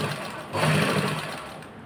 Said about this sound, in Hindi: ये देखिए मैं इसको सिल रही हूँ